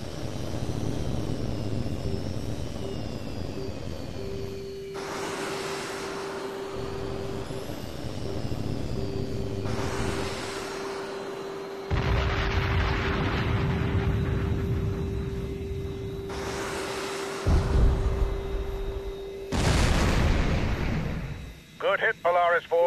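A fighter jet in HAWX 2 roars during an air combat training mission, with several loud bursts of missile launch and engine noise breaking through radio chatter between steady tones.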